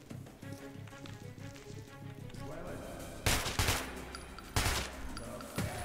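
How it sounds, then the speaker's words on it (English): A blunderbuss-style shotgun fires in Metro: Last Light Redux, two loud broadband blasts standing out over a busy background of game sound. "Ye only blunderbuss of a shotgun, but it'll do."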